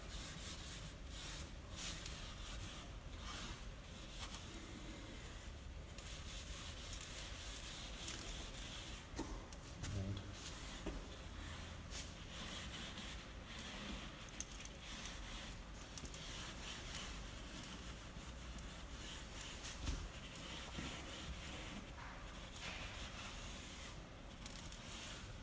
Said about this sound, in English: So we'll give that a scrub.